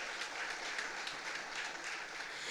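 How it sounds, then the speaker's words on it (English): A crowd at a PNM political public meeting in St Joseph, Tobago, applauds the Prime Minister with steady, dense clapping that holds at an even level throughout, with no voices standing out above it. "Let us give a round of applause to our Honorable Prime Minister."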